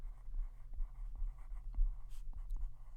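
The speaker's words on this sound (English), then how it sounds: "I'm going to write Ava" Pen or pencil writing on paper while solving a math word problem, with steady, close scratching strokes in short irregular bursts against a low background hum, no talking.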